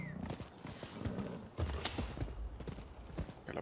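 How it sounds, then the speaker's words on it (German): Horse hooves clip-clopping at a gallop in the video game Rise of the Ronin, a steady rapid rhythm of close thuds with a brief whinny, no talking. "Galoppieren, vom Pferd steigen."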